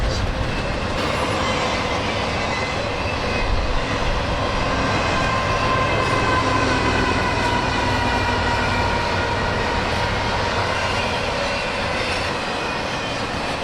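A CSX single-stack intermodal freight train with refrigerated reefer cars at the front rolls past close by, a steady, loud rumble of wheels and cars with faint wheel squeal, continuous throughout with no talk.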